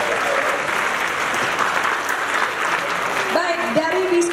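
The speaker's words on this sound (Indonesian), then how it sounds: "Boleh tepuk tangan untuk kita semua." A crowd claps steadily throughout, with a voice speaking near the end over the applause.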